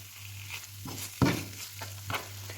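Onion and carrot with tomato paste frying in a pan, a soft sizzle under a steady low hum with a few scraping stirs, one louder clatter near the middle.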